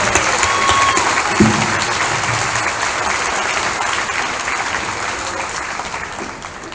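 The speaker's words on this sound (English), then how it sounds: "let's give them a round of applause." A large crowd at a high school senior awards ceremony breaks into loud, sustained applause, a thick continuous roar of clapping that holds steady and tapers only slightly near the end.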